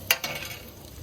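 Onions fry in a pan, giving a soft sizzle broken by a couple of sharp utensil clacks at the start.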